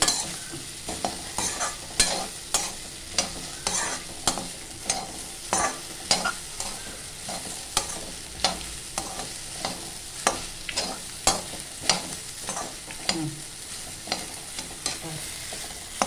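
Vegetables, vondaikkai (okra) in a Tamil home kitchen, stir-frying in oil with a steady sizzle and a regular series of sharp spatula scrapes and knocks against the pan, close and fairly loud.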